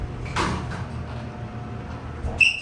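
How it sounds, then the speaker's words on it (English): Mall elevator doors at a JCPenney sliding open slowly: a soft mechanical rumble with a brief knock early on, then a short high chime near the end. "Doors are slow to open."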